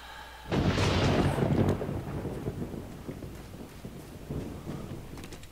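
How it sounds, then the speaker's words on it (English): Thunder in the video game 7 Days to Die rolls in loud and close over rain in a plains biome, then fades into a steady rain hiss with faint distant rumbles. "And there's apparently a thunderstorm going on."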